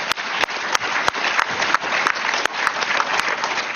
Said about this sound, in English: that was just a gimme applause